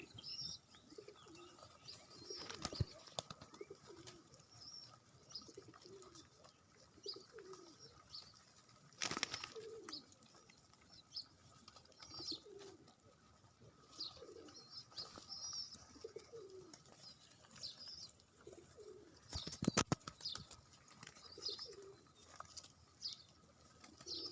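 Pigeons coo softly in repeated low calls, with occasional sharp bursts of wing flapping and faint chirps in the background.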